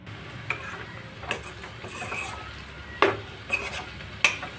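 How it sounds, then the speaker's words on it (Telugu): Carrot fry with coconut chili powder being stirred in a pan on the stove, a low sizzle under repeated clinks and scrapes of a spoon against the pan, close and intermittent. "ఇప్పుడు ఈ కొబ్బరికారాన్ని వేసేసి ఒక ఫైవ్ మినిట్స్ ఫ్రై చేస్తూ"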